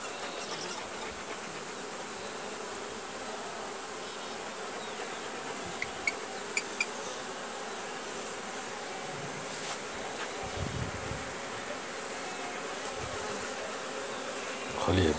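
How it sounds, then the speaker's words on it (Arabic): Honeybees buzz densely around a crowded beehive during an early March inspection, a continuous close swarm drone with faint occasional taps. "خلية بها كثافة نحلة كبيرة"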